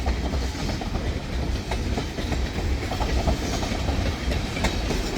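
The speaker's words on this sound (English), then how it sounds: "I believe what they'll probably do is pull this train right into the siding." A freight train rolls on rails at a siding, with a dense continuous rumble and rhythmic clickety-clack of wagon wheels, loud and close, no voices.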